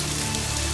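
Steady rain falls heavily on surfaces, producing a dense, even hiss of drops that is loud and continuous throughout.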